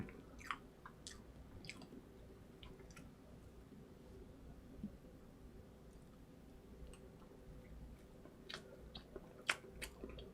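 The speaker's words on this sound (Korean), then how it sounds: "저는 케이크는 이렇게 커도 한 입에 넣을 수 있어요" Quiet close chewing of cake taken in one big mouthful, soft wet mastication with scattered small clicks and crunches, no talk.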